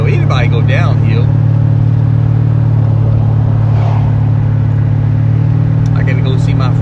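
A 425 hp Chevrolet Monte Carlo SS engine drones steadily and loud in third gear, a constant low rumble running throughout, with a voice talking briefly over it near the start.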